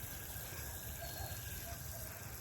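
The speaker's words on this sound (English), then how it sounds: "So we're giving them some good old water, H2O." Cilantro plants in containers being watered in a spring garden, with a steady, loud rush of pouring and splashing water that runs without a break throughout.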